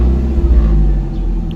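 A Nissan Platina with a K4M engine, its TPS sensor newly replaced, accelerating smoothly: a close, steady engine drone with a low rumble and no talking.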